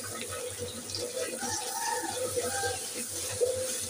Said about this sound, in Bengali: তারপর পোলা পানি বয়ে দিয়ে দিলাম